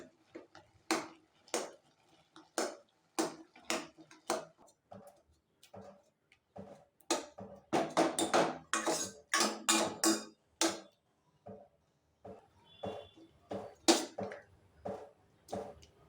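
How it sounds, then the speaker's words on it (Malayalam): Spoon mashing cooked bottle gourd in a pot: a run of sharp, quiet taps and scrapes in an uneven rhythm, close by and alone. "ഇത് സ്പൂൺ ഉപയോഗിച്ച് നല്ലോണം ഒന്ന് ഉടച്ചു കൊടുക്കാം."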